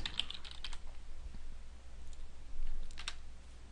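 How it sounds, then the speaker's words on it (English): Typing on a computer keyboard while working in Adobe Acrobat 9: quiet scattered key clicks in short bursts with pauses, with a slightly louder run of keystrokes near the end, no talking. "So now when I type in United,"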